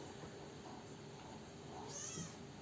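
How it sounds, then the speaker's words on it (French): A kitten meows from behind a closed door, a single muffled, faint cry rising late in the moment over steady room noise. "Donc vous allez peut-être l'entendre miauler parce que là,"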